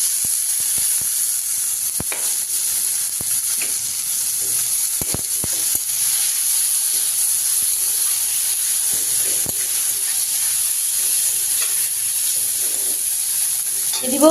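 Chopped tomato goes into a hot pan with onion and green chili and sizzles steadily, a loud continuous hiss with a few sharp clicks and knocks from the pan, close up, with no talking.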